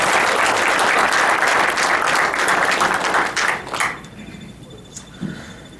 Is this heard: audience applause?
yes